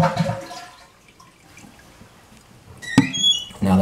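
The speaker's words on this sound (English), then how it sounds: "we're just going to flush the toilet and let the water drain out" A household toilet being flushed so the tank drains, with a burst of water at the start, a quiet trickling stretch, then a sharp clunk and renewed rushing water near the end; no talking.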